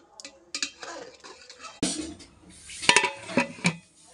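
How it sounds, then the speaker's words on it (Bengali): A spoon stirs khichuri in a cooking pot, metal clinking and scraping against the pot in a series of irregular, close knocks with scraping rubs in between, at moderate loudness with no voices. "এরপরে ভালো করে নাড়াচাড়া করে নিতে হবে।"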